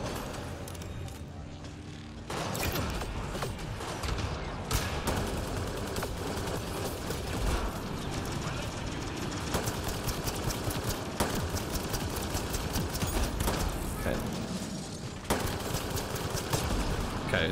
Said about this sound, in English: Okay, we've got turrets.